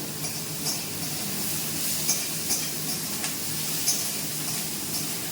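Potatoes frying in a pan at home, a continuous soft sizzle with occasional light scrapes and clinks of a spoon stirring against the metal, steady and close with no voices.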